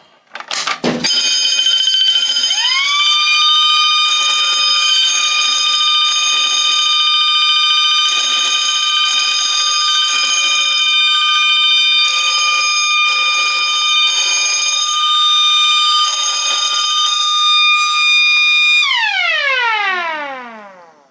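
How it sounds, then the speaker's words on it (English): A loud electronic fire alarm system, four alarms on one panel, sounds continuously with steady high-pitched tones and a pulsing pattern, then winds down and fades at the end. "you're going to hear all 4 alarms on this board going off"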